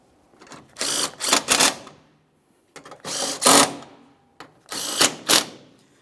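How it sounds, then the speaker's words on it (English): A ratchet wrench tightens the bolts on the washer fluid reservoir bracket of a 2008-2017 Mitsubishi Lancer. Three close bursts of rapid, dense clicking are separated by short pauses, with no talking. "and then we're just going to tighten all this hardware."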